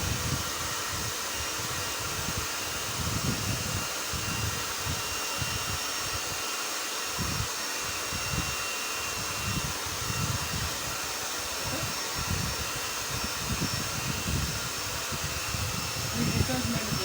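A hair dryer runs on its cool setting with a constant steady airflow hiss and motor whir, close and continuous, while a person talks over it throughout.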